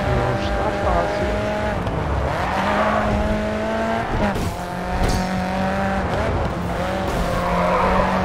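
Race cars in GRID 2 roaring through corners with squealing tyres and skids, engine pitch sliding up and down, loud and continuous, with someone talking over the racing.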